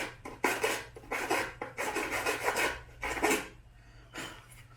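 A fine-tooth saw blade of 24 to 32 teeth per inch cuts plastic Hayabusa motorcycle windscreen trim, giving close, loud rasping strokes in an uneven back-and-forth rhythm that pause briefly between passes.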